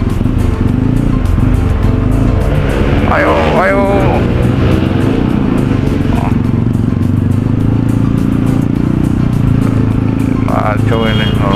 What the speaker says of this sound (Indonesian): di sini selalu macet sih